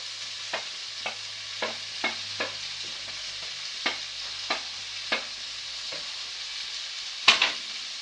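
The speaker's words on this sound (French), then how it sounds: "Vous mélangez bien." A spoon stirs a Mediterranean stew with red peppers in a pot, steady rhythmic scraping strokes about every half second over a faint simmering sizzle, ending in a louder clack, no talking.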